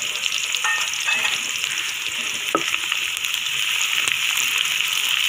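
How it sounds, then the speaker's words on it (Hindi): Chopped onions fry in a pan while being stirred, a steady crackling sizzle with occasional scrapes and clinks of the spoon against the pan. "प्याज का जस्ट कच्चापन आपने ख़त्म करना है, इसको ब्राउन नहीं करना।"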